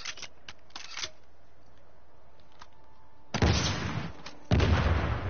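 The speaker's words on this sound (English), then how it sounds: "Firework!" Fireworks in the video game Uncharted 4 go off as two loud, crackling bursts near the end, after a quieter stretch of faint clicks and clatter.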